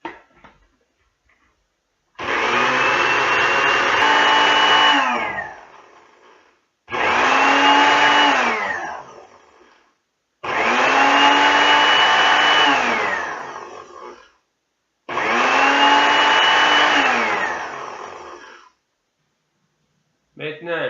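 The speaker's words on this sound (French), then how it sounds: "on va tout simplement le mettre dans le blender." A blender grinds dried dandelions in four loud, sustained bursts of roughly three seconds each, its whirring motor pitch rising and falling within every burst, with short silent gaps between them.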